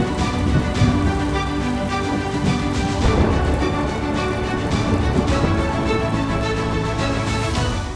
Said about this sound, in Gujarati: ગામોમાં ધોધમાર વરસાદ ખાબક્યો।